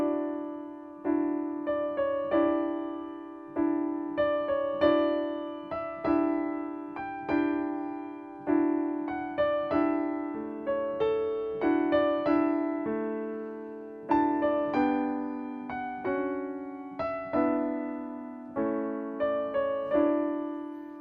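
Solo piano plays a film's main theme at a measured pace, with clear melody notes over sustained low chords and each phrase decaying before the next, heard alone with no talk.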